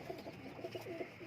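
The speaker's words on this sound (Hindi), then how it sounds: "माशाल्लाह बहुत खूबसूरत हैं सर ये सारे कबूतर" Pigeons on a pigeon farm in Pakistan give soft, low cooing in a few short rolling bursts, faint and close with no voices.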